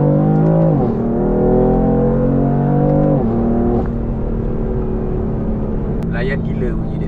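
A BMW M4 engine revs and roars at close range, its pitch climbing then dropping sharply in steady waves, loud throughout with a brief sharp clatter near the end.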